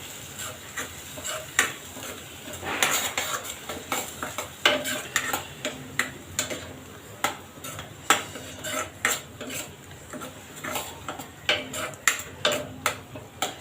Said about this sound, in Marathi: हिचं पण कच्चापणा जाईपर्यंत आपल्याला परतून घ्यायचं आहे चांगलं।